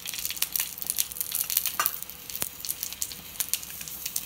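Oil poured over pan-roasted green chillies for a Maharashtrian drumstick black rassa curry, giving a faint, crackling sizzle with scattered sharp pops over steady low hiss, without talk.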